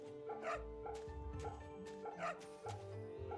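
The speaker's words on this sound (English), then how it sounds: "A dog?" A dog in the video game Fate/Samurai Remnant gives a few happy yips and barks, heard over steady in-game background music.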